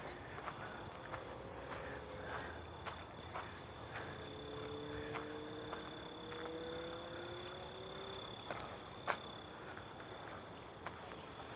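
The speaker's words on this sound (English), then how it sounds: "Maybe some sounds of crickets, actually." Steady, high-pitched insect chirping fills a quiet night, with a low croaking call drifting underneath and a few faint clicks.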